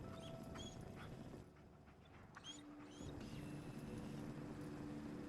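Dog companion in a video game whimpering and whining in a few short, high yelps over a low ambient background, fairly close and quiet.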